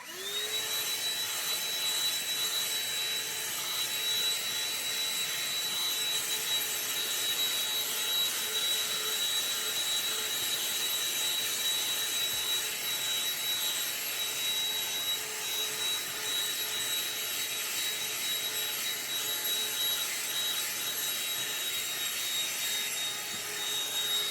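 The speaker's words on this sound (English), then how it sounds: "we've expanded the vacuum cleaner so we can reach as far as possible down into the cracks" A handheld vacuum cleaner runs steadily and loudly throughout, with a constant motor whine and airy rushing, no pauses or voices.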